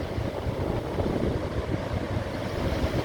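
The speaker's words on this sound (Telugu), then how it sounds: "కిందికి వెళ్ళి వస్తున్నటువంటి వాటరు ఇది పవర్ హౌస్ వాటర్ అండి కరెంట్ ఉత్పత్తి అవుతున్న వాటర్ కిందికి వెళ్ళి వస్తుంది చూడవచ్చు" Powerhouse outflow from the Nagarjuna Sagar dam on the Krishna river, with twenty spillway gates open, heard as a steady, loud, broadband rush of churning water that holds constant throughout, with no voices.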